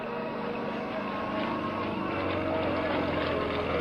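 A small Yak 55 aerobatic propeller plane drones steadily at a distance while flying vertical lines and rolls, its engine noise holding a constant roar that swells slightly toward the end.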